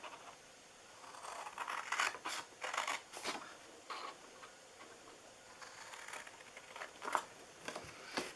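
Scissors snip through paper while a Christmas treat box is cut out, giving a series of short crisp cuts in irregular bursts, close and fairly quiet.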